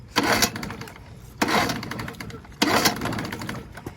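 A cheap used boat outboard motor being pull-started, three separate cranking bursts a little over a second apart, each a rough chugging turnover that dies back without catching, close by.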